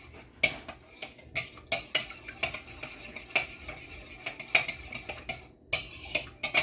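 Thai noodles seasoned with salt and pepper are stirred in a pan, a steady run of clinks and scrapes from utensil on metal, close and fairly quiet, with a brighter burst near the end.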